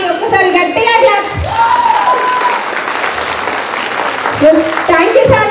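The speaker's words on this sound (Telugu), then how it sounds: "ఒక్కసారి గట్టిగా క్లాప్స్" A crowd at a meeting claps loudly and steadily for several seconds while a few voices speak over the applause.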